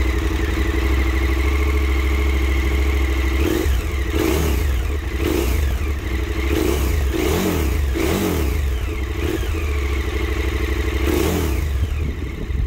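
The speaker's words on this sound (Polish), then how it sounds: "Dźwięk seryjnego tłumika V2 jest okropny." A KTM 1290 Super Adventure S with its V2 engine and stock exhaust revs repeatedly, several throttle blips rising and falling over a steady loud idle, close and alone without talk.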